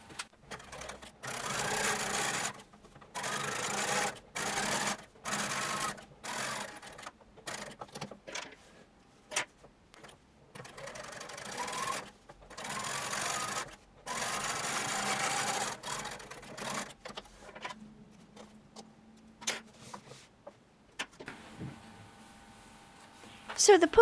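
Sewing machine stitching the front pocket of a pair of jeans in repeated bursts of fast mechanical whirring separated by short pauses, with quieter handling noises toward the end.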